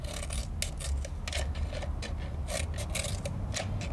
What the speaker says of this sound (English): I'm just gonna cut little slits up to the side of the lid